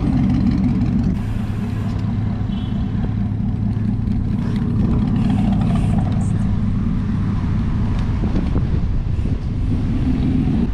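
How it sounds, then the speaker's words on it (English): Heavy wind buffets the microphone of a bicycle-mounted action camera at Myrtle Beach, South Carolina, producing a loud, constant low roar that fills the whole stretch with no letup. "It's so windy, Don."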